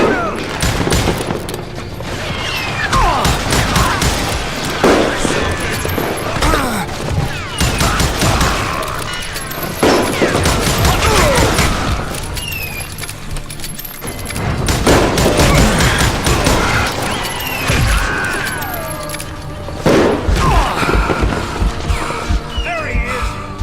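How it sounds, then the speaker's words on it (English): Dense, continuous gunfire and explosions in the Western shooter Call of Juarez Gunslinger, rapid overlapping shots, ricochets and crashes filling the whole stretch at high, steady loudness, with occasional game voices shouting amid the din. "Shoot him! Shoot him!"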